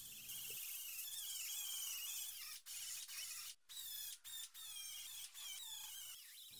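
Pneumatic air tools stripping surface rust from the bumper mounting brackets of a BMW E30 Touring, a sustained high whirring grind broken by several brief pauses as the tool lifts off, close and fairly quiet.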